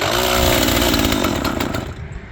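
A chainsaw runs in cold winter weather, a loud, close, buzzing two-stroke drone that holds steady before easing off toward idle at the end, with no talk.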